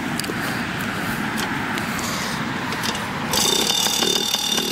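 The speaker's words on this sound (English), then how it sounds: "there's a kickstart lever here. So we'll give that lever a little kick." Small engine of a 2004 Yamaha PW50 kids' dirt bike, started with the kickstart lever, buzzing steadily up close, then growing louder with a sharper high whine for the final second and a half.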